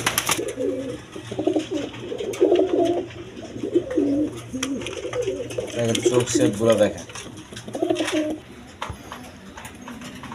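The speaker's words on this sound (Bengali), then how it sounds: "দর্শকবৃন্দ এখানে এক পেয়ার গোল্লা কবুতর আছে, দেখেন খোপওয়ালা বড় সাইজের কবুতর" A pair of large Golla pigeons coo repeatedly in low, rolling phrases, close and steady through most of the stretch, while someone talks over them.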